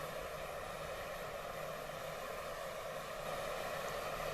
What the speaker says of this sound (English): You can hear that GTS get going.